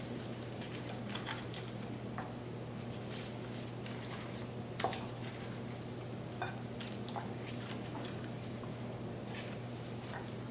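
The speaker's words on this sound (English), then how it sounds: "Let's pour the marinade over the pork chops." Marinade pours and patters over raw pork chops, a steady soft wet splashing with a few sharper drips and squishes throughout, close and fairly quiet with no talking.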